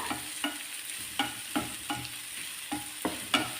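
Spinach, lentils and onion being stirred and sautéed in ghee for a spinach-lentil curry: a steady sizzling fry with a spoon scraping the pan about eight times in a loose rhythm, close and moderately loud, no voices.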